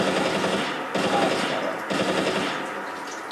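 Fully automatic gunfire in Fallout 4: three sustained bursts of rapid shots, each roughly a second long with short gaps between, loud and close.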